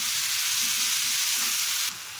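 Ration rice biryani base with carrots and salt cooking in a pan, giving a steady close sizzle and frying hiss that runs unbroken, then drops slightly near the end; no voices.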